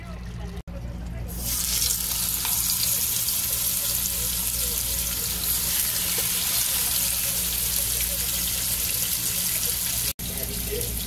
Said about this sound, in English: I'm going to sear these off a little bit of canola oil here